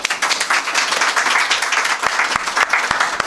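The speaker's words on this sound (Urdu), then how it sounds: "آپ سب کے درمیان کے لیے بہت سی تالیاں" Audience applause at a London press conference for a singer, with individual claps standing out sharply from a steady crowd clatter at close range and no talk over it.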